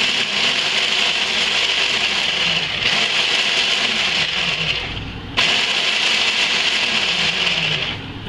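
Oats roughly ground in an electric coffee grinder, a continuous loud whirring grind in two bursts with a brief drop in the middle, close up.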